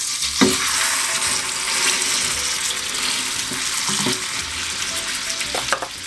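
Sausage meat sizzles and fries steadily in hot oil in a pan for Jamaican stuffed dumplings, with a few sharp stirring scrapes and clicks rising over the continuous crackle.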